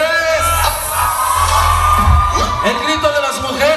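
Women in the crowd at a cumbia concert at a birthday bash scream and whoop loudly together, with a voice carrying over the sustained, rising cheers.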